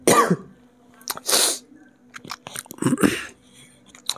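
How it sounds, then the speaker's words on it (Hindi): Several harsh coughs and throat-clearing bursts, close and fairly loud, spaced unevenly with short quiet gaps between them. "खांसी बहुत ज़्यादा आ रही है"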